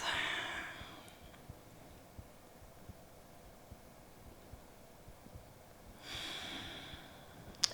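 Deep breathing during a yoga practice, a slow audible inhale at the start and another long breath near the end, soft and close against a quiet room hiss.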